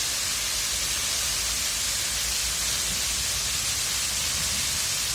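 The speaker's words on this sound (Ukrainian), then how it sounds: "Фонтани приваблюють багатьох людей" Splashing fountains in the old town square of Lublin, a dense, steady wash of falling water that fills the scene evenly and loudly throughout, without speech.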